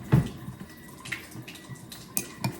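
Organic tomatoes are stirred in a bowl of water, giving soft sloshing and gurgling with a sharper splash at the start and scattered small splashes after.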